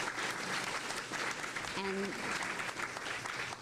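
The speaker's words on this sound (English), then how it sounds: "So help me give a round of applause for our fantastic speakers." An audience at a public forum applauds its speakers, a continuous wash of clapping while someone talks over it briefly.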